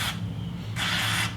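Two short hissing bursts of cable lube sprayed into a Harley-Davidson clutch cable, the second burst longer, close and clear over a low background hum.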